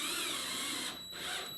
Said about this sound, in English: then I'm going to grab my drill, and I'm trying to get these as flush as I can